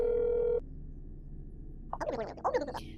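A phone dial tone from the video game That's not my neighbor rings steadily for about half a second and then cuts off, leaving quiet hum and a few brief muffled voice sounds near the end.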